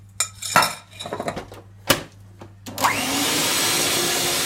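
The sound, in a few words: mixing chocolate muffin batter with melted butter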